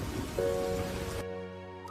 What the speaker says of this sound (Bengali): নেমে আসে বৃষ্টি।